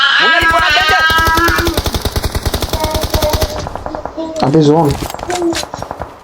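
Rapid bursts of automatic gunfire in a multiplayer shooter video game, loud and close, rattling in long strings and shorter volleys while players talk and laugh over it.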